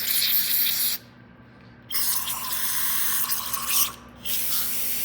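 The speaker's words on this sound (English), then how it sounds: "I'm gonna spray out our inlet for our fuel" Carburetor cleaner sprays in loud, close hissing bursts through the fuel inlet of a Generac generator carburetor, with two short pauses breaking the steady aerosol jet.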